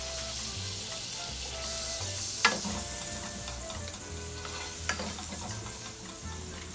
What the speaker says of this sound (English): allow that butter to get all melted